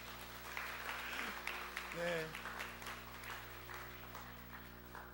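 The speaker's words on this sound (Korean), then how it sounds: "박수 하시겠습니다" Church congregation applause welcoming a newcomer during a service, a steady patter of clapping with a voice speaking briefly over it and a low background hum.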